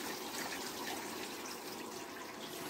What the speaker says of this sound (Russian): Все надо прочищать хорошенько, потом все это прополаскивать вот так вот хорошо